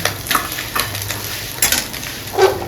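Desi chicken frying and being stirred in a pan, a steady sizzle with soft scraping strokes of the spoon coming and going over close, even background hiss.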